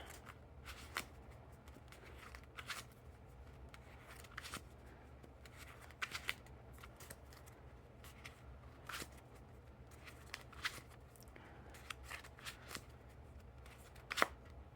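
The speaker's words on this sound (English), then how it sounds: "now time for that one-handed cut or Chevalier cut." Purple King Slayer playing cards are cut one-handed in a Chevalier cut, producing soft, sparse clicks and snaps of card edges against a quiet background hum, close by and without talk.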